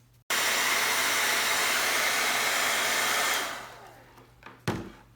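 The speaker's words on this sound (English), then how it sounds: "So you may have to use a hair dryer." A hair dryer blows steadily to warm the adhesive on a Hayward sand filter valve gasket, a loud continuous whooshing drone that starts abruptly, runs for about three seconds, then winds down to handling clatter.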